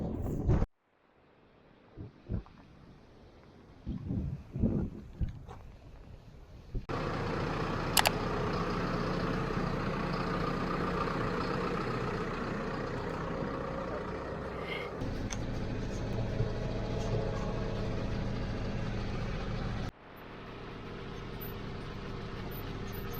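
A tractor drives along outdoors, a low, steady engine rumble that starts after a quieter opening and continues with slight shifts in tone, moderately close with some wind.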